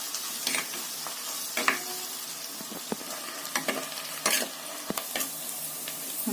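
Onions frying in a clay pot, stirred constantly, with a continuous close sizzle broken by repeated sharp scrapes and clicks of the spoon against the pot at an uneven rhythm.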